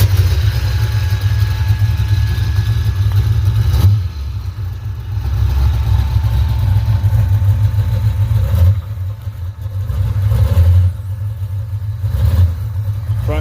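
A Mercury Comet car with old transmission fluid runs steadily, a loud low engine rumble with brief dips in level, no talk over it.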